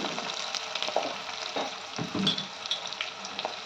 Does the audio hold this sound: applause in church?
no